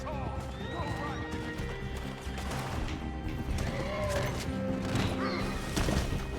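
A horse in Red Dead Redemption 2 whinnies loudly and gallops with fast, continuous clip-clop hoofbeats. Crashes and a dense, noisy chase scene fill the background, and faint voices are heard now and then.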